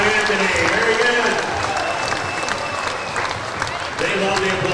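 A basketball crowd applauds in a home gym as the Rams host the Wayne Trace Raiders in January 2024: steady, dense clapping that holds for several seconds with voices and crowd noise mixed in.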